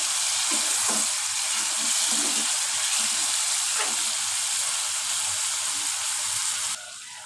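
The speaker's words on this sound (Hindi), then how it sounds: "मसाले को अच्छे से भून लेते हैं।" Masala and cut potatoes frying in a pot for a sohanjana curry, giving a dense, constant sizzle and hiss close up with a few faint stirring knocks, continuing without talk until it drops off slightly at the very end.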